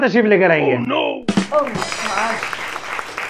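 Studio audience applause greets a guest on a comedy talk show, a dense burst of clapping rising under a voice as he finishes speaking.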